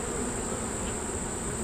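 Honeybees buzzing steadily at an open hive during a brood inspection, a continuous close insect drone with a high whine that holds without a break.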